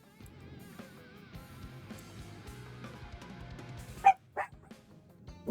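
Dogs bark faintly in the background of a quiet room, with a few short, louder yaps near the end, and soft game music or sounds underneath.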